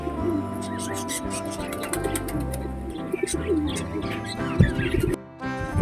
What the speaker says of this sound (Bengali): দেখো সবাই নেমে গেছে স্নান করতে, কিছু পায়রা বাকি আছে ওগুলোও নামবে।